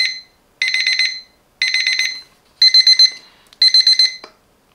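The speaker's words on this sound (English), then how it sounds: "There is the second alarm." A digital alarm clock rings in five bursts of rapid electronic beeping, separated by short silences. The beeps are close, clear and loud, with nothing else heard.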